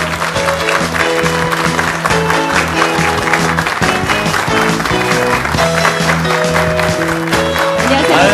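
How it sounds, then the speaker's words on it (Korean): Audience applause welcomes a speaker at a church mothers' prayer meeting, a steady wash of clapping blended under loud, continuous music. "박수로 맞이해 주시기 바랍니다."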